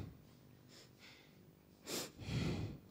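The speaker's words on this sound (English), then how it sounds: "you're panting from the diaphragm." A person doing a voice exercise, panting from the diaphragm in short, quiet breathy puffs, followed by two stronger, louder exhalations near the end.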